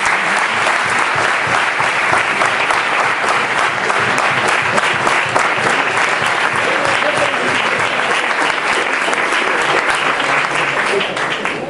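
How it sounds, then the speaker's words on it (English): A standing audience gives loud, sustained applause for comedian Dan Higginson at a live show, thick continuous clapping with fast rhythmic spikes that holds at full strength throughout. "please stand up and give a big round of applause for Dan Higginson"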